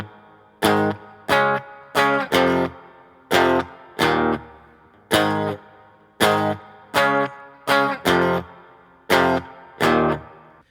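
Distorted electric guitar power chords playing a song, about a dozen sharp strummed hits in a choppy, syncopated rhythm, each ringing briefly before cutting off, loud and close with no talking.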